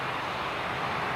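A business jet at Dublin Airport during a runway change makes a steady, broadband, distant jet roar that stays even for a moment, with no voices.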